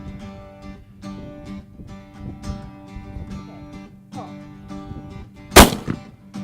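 A single loud, sharp gunshot cracks out near the end of a shooting lesson, following several seconds of quieter background sound.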